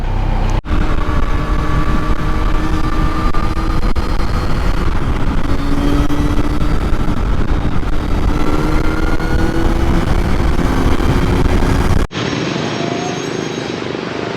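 A Kawasaki Z900 SE motorcycle rides along a road, its engine droning steadily with a rising and falling note over continuous wind and road roar, heard close from the rider's position.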